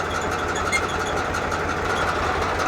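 A tractor engine runs in a steady, loud, low idle close by after being kick-started, with an even rumble throughout and no speech.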